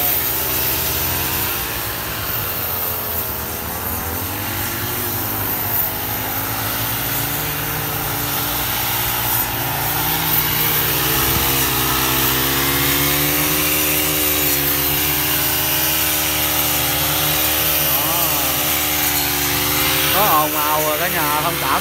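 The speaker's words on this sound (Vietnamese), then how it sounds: "tại vì máy cắt cỏ ra ngoài cả nhà ơi." Several grass cutters run at once outdoors, a steady, loud, droning engine whine that holds for the whole stretch with slight wavering pitch, while a person talks over it.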